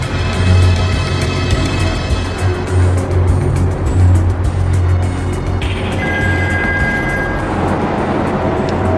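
A car drives steadily behind a special team vehicle during a capture operation in Bangkok, a loud continuous engine and road rumble with low hum throughout and no talking.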